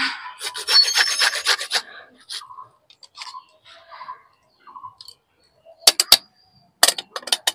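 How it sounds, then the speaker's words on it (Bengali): Fresh ginger is rubbed against a grater for paste, giving close, dry rasping strokes in quick bursts, followed by sparser clicks and scrapes, with someone talking in between. "আমার আদাটা গ্রেট করা হয়ে গেছে।"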